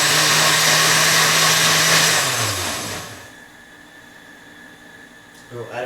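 A blender on its grind setting runs loud and steady, then winds down and stops partway through, leaving near silence before a brief noise at the end.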